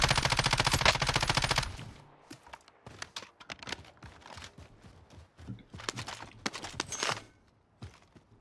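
Rapid automatic gunfire and sniper shots in the video game Warzone (Cold War), with the RAM7 rifle in use: a dense, loud burst opens, then scattered shots and further short bursts follow.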